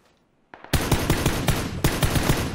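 Rapid automatic gunfire in the video game PUBG, a loud burst of repeated shots starting abruptly after a brief quiet moment and continuing in a steady rattling rhythm.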